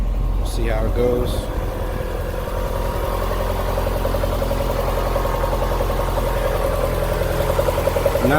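A B20 VTEC car engine runs steadily on its first start after a new head gasket, a constant mid-pitched idle hum with a brief higher whine early on, close and continuous throughout.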